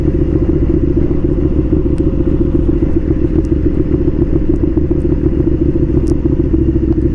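A Suzuki SV650 motorcycle rides along near a new bridge in Naic, its engine giving a steady, loud, close droning hum with faint clatter and ticks over the top, with no talk.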